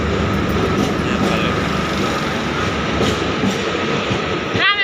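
A local train at a village station on a rail line toward Rameshwar rolls in with a steady, loud rumble and clatter of wheels, and a squeal rises sharply near the end.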